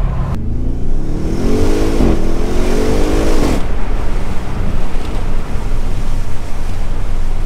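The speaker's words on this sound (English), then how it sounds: "hit the rev limiter it lets you hit the ramp limiter" An Audi RS6 Performance engine (605 PS) revs hard and climbs steadily in pitch, bouncing off the rev limiter, then holds a loud, steady roar with wind rushing past.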